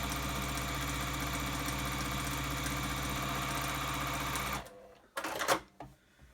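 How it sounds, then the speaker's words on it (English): A sewing machine stitches a quarter-inch quilt seam, running steadily at speed for several seconds, a fast mechanical whirring hum, then stops, followed by a few brief handling noises. "I'm just going to sew that across."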